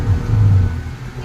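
A slow-moving boat engine gives a steady, close, low rumbling drone that hums continuously with little change in pace.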